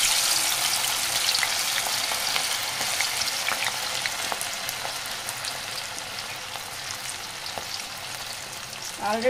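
Ivy gourd (dondakaya) pieces frying in a pan give off a steady, close hiss of sizzling oil with scattered crackles and pops, continuous throughout and fading only slightly, with no talking.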